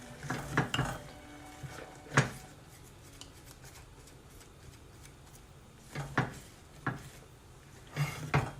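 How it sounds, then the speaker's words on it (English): Utensil scraping and clinking against a hot pot while eggs are stirred, faint soft clatter with a few sharper knocks in irregular bursts. "I'll help hold the pot still while you stir."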